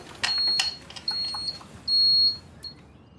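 A fire alarm in a residential building emits a series of high, piercing electronic beeps, short chirps and one longer tone, with faint clicks and clatter between them during a reset.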